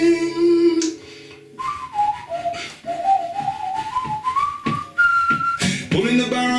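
One person whistles a clear melody up close, with sliding, wavering notes that climb and fall across several phrases and occasional breaths between them.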